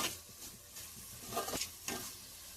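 Mushroom curry frying in a pan, a quiet sizzle with a few distinct scraping stirs of a spoon spread unevenly over a couple of seconds, no speech.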